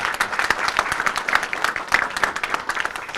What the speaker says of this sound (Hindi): तो अनीता जी के लिए भी एक ताली बनती है बहुत आज